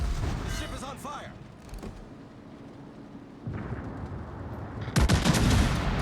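The Amagi battleship firing its 16-inch guns in a naval video game: a loud boom at the start, then a long rumbling lull while someone talks, and a second heavy blast with roaring decay near the end.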